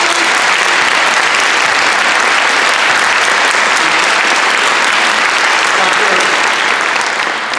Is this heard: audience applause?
yes